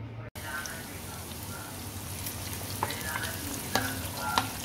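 Garlic and onion sauté in a hot pan for pancit bihon, giving a steady close sizzle with scattered sharp clicks and scrapes of stirring near the end.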